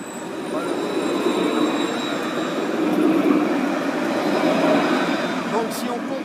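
A tram, car number 13, runs along a grassed track section, a steady broad rumble and whoosh that swells as it passes close by, with someone talking over it.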